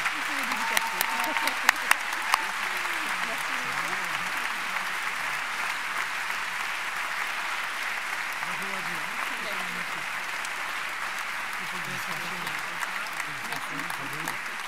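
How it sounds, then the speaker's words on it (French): Sustained audience applause at a law master's graduation ceremony, steady dense clapping filling the hall for about fifteen seconds, with faint voices murmuring underneath. "Je pense qu'on peut resservir une volée d'applaudissements."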